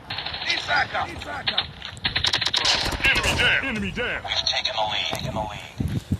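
Silenced .50 GS pistol fire in the Call of Duty Mobile video game: rapid clusters of sharp suppressed shots and mechanical clicks, mixed with game effects while someone talks over them.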